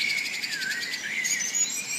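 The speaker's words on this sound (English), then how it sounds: "the final touch is from this sample, so it's Birdsong" Birdsong from a field recording sample: rapid high chirps and trills over a steady bright tone, continuous and fairly loud, with no voices.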